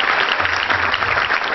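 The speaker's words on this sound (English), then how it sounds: "a big round of applause for him." An auditorium audience at an awards ceremony gives loud, thick applause that stays constant from start to finish, with no voices on top.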